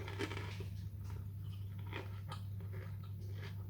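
Crisp pani puri shells dipped in tamarind and palm sugar sauce are bitten and chewed close up, a few faint crunches over a steady low hum.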